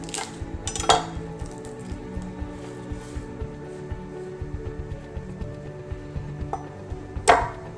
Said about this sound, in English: just gonna peel and smash a quick clove of garlic here